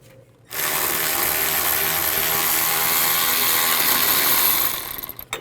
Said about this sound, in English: The nut on the new one is a 17mm, so use a 17mm socket or ratchet wrench.